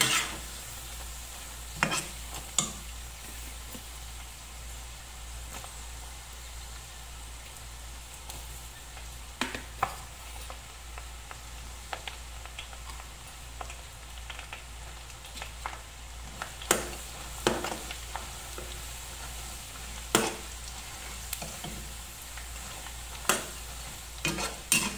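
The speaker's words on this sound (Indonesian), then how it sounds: "goreng sampai garing, aku pakainya apinya yang sedang aja, jangan yang gede-gede, biar nanti crispy-nya dapat" Basreng fish cake with kaffir lime leaves frying in oil over medium heat, a steady low sizzle under occasional sharp stirring clacks and scrapes, with no voices.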